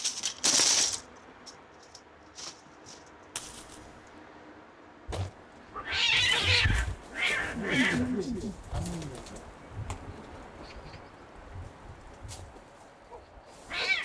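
Stray, unneutered male cats yowl and wail in drawn-out, rising cries during breeding season, loud and close, with quiet gaps between outbursts and faint bird calls in the background.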